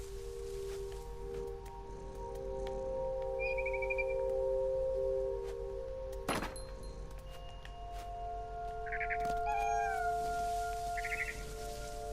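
A cat in What Remains of Edith Finch gives several short, high meows spread over a quiet, humming game backdrop, with one sharp click partway through.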